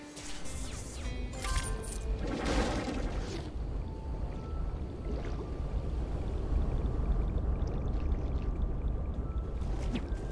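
Steady rushing water roars from a waterfall near a dam in Ty the Tasmanian Tiger 3, a broad constant wash beneath some splashy game effects and music early on, no voices.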